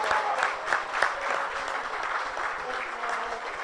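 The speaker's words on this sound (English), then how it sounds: "a big round of applause once again" Audience at a 2023 African media awards ceremony gives a brief round of applause, dense clapping with a few sharper claps standing out, moderately close and steady.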